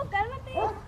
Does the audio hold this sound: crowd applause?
no